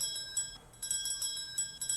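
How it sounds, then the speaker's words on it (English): Small bell struck in a bucket or tub of water and heard through the liquid, a few light metallic rings with a sustained tone, faint and close, with no voices. "Can you hear the sound of the bell?"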